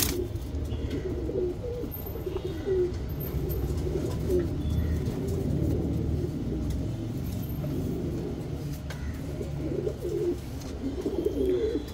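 Pigeons of a champion racing line cooing steadily nearby, deep repeated throaty coos layered over one another, with faint chirps and distant traffic behind them.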